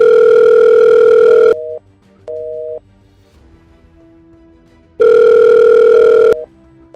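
A telephone call to a son's mobile goes unanswered, a loud steady tone sounding in long bursts separated by shorter beeps and quiet gaps, close and clear with no talking.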